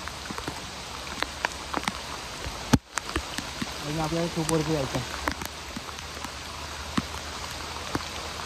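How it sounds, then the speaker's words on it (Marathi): Heavy rain falls on a hillside trail up Karnala Fort, a steady dense patter with scattered drops, while a person speaks briefly over it. "पाऊस जोरात सुरू झाला आहे."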